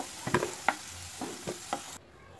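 Fried potatoes being lifted out of hot oil, a few soft clinks and scrapes over a quiet sizzle that drops away at the end.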